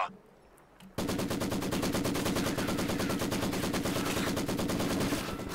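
Maxim machine gun in a World War II real-time strategy game firing a long sustained burst of rapid rhythmic shots after a brief quiet moment, loud and continuous.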